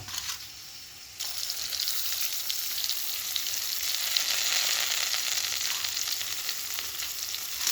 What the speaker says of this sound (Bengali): এবার আমি আদাটাকেও একসাথে একটু কষিয়ে নেব।